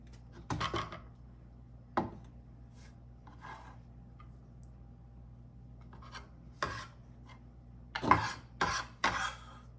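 Cheese grated by hand over a Brussels sprouts dish makes short, bursty rasping strokes in scattered clusters against a quiet room, closer and louder toward the end.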